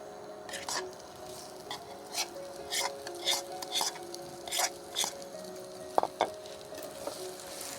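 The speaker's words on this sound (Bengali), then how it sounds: "এটাকে নাড়িয়ে নিতে হবে মানে একটু ভেজে নিতে হবে হালকা বেশি না" Mashed boiled potato is stirred and lightly fried in a little oil in a pan. Repeated scraping strokes and soft clanks of a spoon against metal sit over a faint sizzle, with a sharper knock near the end.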